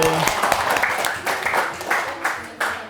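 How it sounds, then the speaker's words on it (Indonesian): Classroom applause for a student who has just presented, a short burst of clapping from students with talk mixed in over it. "Sekali lagi tepuk tangan buat Septi."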